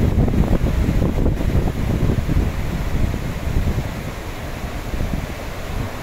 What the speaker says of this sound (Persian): هم صدای باده، هم صدای این رودخونه زیباییه که الان دارم فیلم میگیرم